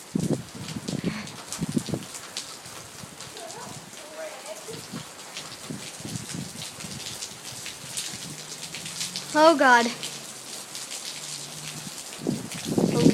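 Steady rain patters on outdoor surfaces, a dense hiss with scattered drips, while a person talks briefly nearby and birds chirp faintly in the background.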